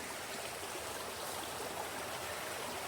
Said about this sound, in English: A little waterfall there.